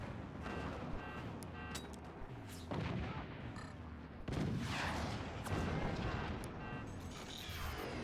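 Weapons in the game Forts firing at an enemy fort, a series of loud booms and bursts with rushing projectile sounds, the heaviest salvo starting midway and continuing to the end.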